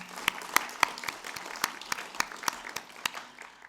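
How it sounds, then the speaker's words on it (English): A modest audience at an annual general meeting claps for outgoing members, the separate claps sounding sparse and fairly evenly spaced, with a few sharp ones standing out and no voices over them. "Could we give a round of applause for them, please?"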